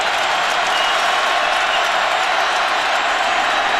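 A college football stadium crowd roars continuously as fans rise to their feet ahead of a fourth-down play in a 2010 Oklahoma–Nebraska Big XII Championship game, a loud, steady wash of cheering with no breaks.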